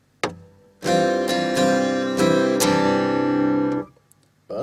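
An acoustic guitar strums a song's part the way it sounds on the album, with a single plucked note, then a run of full ringing strums for about three seconds before the sound is damped off.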